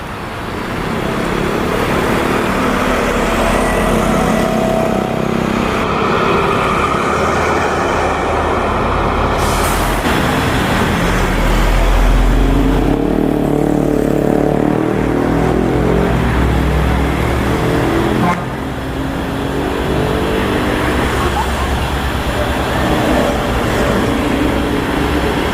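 ANS executive class bus nicknamed AC Milan pulling into the Pisang bypass ticket counter terminal, a loud continuous engine rumble with hissing air and traffic noise throughout, no talk.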